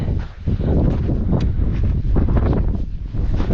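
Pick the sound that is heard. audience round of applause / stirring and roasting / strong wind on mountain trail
strong wind on mountain trail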